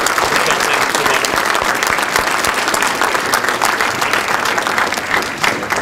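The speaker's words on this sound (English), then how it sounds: "I think we ought to begin by a round of applause for Michelle and her team" A large audience applauds event organizers at a bicentennial kick-off event, loud dense clapping sustained for several seconds, close and unbroken.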